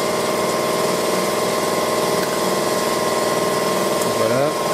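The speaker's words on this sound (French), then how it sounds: "Le moteur tourne. Faites tourner le moteur bien chaud." Toyota Corolla engine idling while warming up during an oil change and spark plug job, a steady, even mechanical hum held close and loud throughout, with a voice speaking over it near the end.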